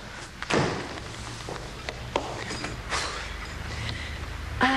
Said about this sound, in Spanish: Ay, cierra la puerta.